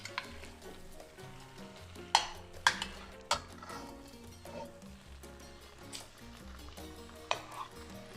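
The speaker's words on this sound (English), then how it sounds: "We're gonna brown this ground beef in that little bit of oil that we put in there." Ground beef browns in a little oil in a pan for green chile stew, sizzling steadily close up while a utensil scrapes and clacks in irregular bursts as it is stirred.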